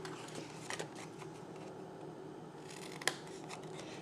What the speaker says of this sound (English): Then take a pair of paper scissors and cut your tabs.